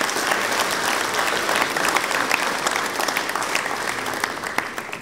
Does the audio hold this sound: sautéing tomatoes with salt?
no